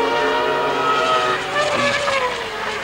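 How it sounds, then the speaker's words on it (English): A McLaren Formula One car powered by a Honda V10 climbs a hill during 1990 Hungarian Grand Prix qualifying, a loud, sustained high-pitched engine whine that shifts pitch as it passes. "the V10 Honda engine."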